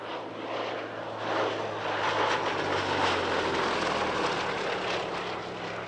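A Gloster Gladiator biplane's radial engine drones past at an airshow, a broad steady roar swelling slightly as it nears and holding at mid distance, with no voices.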